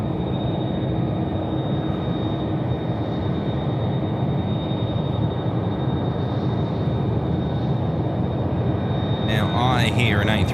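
A Jetstar Airbus A330 jet rumbles at Sydney Airport at night in a continuous low engine roar under outdoor ambience, with faint chatter nearby.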